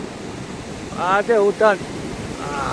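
Big waves crash on a stormy sea at Juna Rajpara village, a continuous roar of surf and wind close by, with a voice speaking over it in short bursts.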